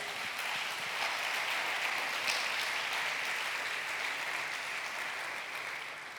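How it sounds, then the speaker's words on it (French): A church congregation applauds steadily, a dense, continuous wash of clapping that holds for several seconds before tapering slightly at the end, with no voices over it. "Acclame Jésus pour cela."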